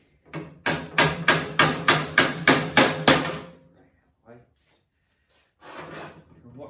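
A bush bearing is driven in with a driving kit: about nine sharp, evenly spaced hammer blows ring out loud and close, followed by a single lighter tap and a short scraping rustle after a pause.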